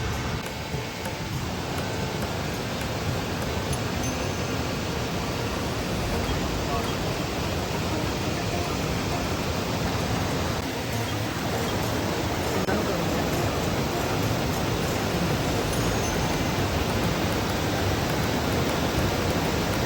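A waterfall swollen by overnight rain at a mountain stream crossing on the Shrikhand Kailash trek pours in a loud, unbroken roar that fills the scene from start to end.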